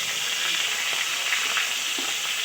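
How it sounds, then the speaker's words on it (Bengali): Female crabs frying upside down in hot oil in a wok: a dense, steady sizzle and hiss with soft bubbling pops, close and continuous, with no talking. "তো তেলের মধ্যে ঘিলুগুলো যাতে ঘেটে না যায়, তো আগে উল্টো পিঠ করে ভেজে নেওয়া হচ্ছে"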